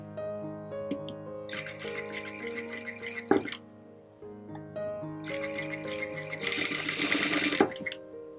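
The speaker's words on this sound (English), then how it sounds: "make the fabric flat and run the stitch very smoothly according to the shape" A sewing machine runs in two steady stitching bursts as the lining is sewn to the main fabric, with a brief clack and pause between runs; the motor whirs loud and close with no talking.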